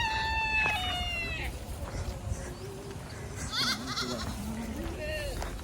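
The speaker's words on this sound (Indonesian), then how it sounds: "Ada kambing, kambing lokal." Local goats at a farm park bleat several times, wavering cries repeated close by, with people talking over a steady outdoor background.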